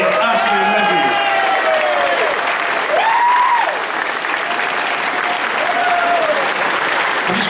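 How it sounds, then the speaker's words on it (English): A convention audience at a closing ceremony bursts into sustained applause, a dense wash of clapping that fills the hall while a voice with some feedback-like tones rings over it. "So give yourselves a round of applause"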